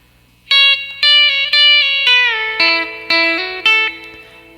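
An electric guitar fitted with a B bender picks a country lick from a song: about seven sustained, bright notes, some bending in pitch, played close and clean with no talking.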